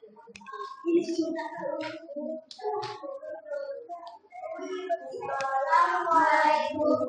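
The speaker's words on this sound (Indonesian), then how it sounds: "Beri tepuk tangan sebelumnya." Classroom of students clapping hands together for a group about to present, a lively patter of applause mixed with children's voices and chatter, growing louder toward the end.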